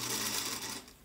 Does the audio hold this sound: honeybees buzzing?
no